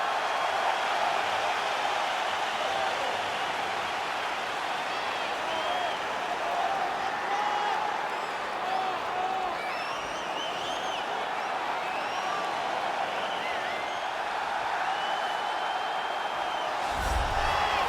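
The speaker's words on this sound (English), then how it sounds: "Crowd going crazy." Arena crowd in the UFC 4 video game cheers as a steady, dense roar of cheering and applause that holds loud and unbroken throughout.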